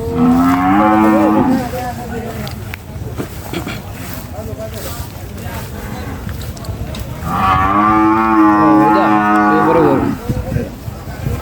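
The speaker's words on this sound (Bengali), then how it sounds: "সেই বড় গরু এটা।" Cattle at a sprawling 2024 cattle market along 300 Feet road give two long, loud, deep moos, one at the start and one later, over a steady hum of crowd and market noise.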